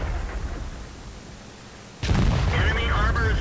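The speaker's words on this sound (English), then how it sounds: "would you like to know what an 8-inch howitzer with nearly 300 mm of penetration can do to the side armor of a medium tank with 80 mm of armor" An 8-inch howitzer on an American M53/M55 artillery vehicle in World of Tanks fires at a medium tank, a sudden loud heavy boom that cuts in midway through the clip after low rumbling game background.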